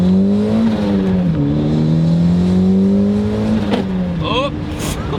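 A turbocharged mid-engined Toyota MR2 accelerates hard, its engine note climbing steadily and loudly up close, easing briefly at a shift before rising again, with a short squeal near the end.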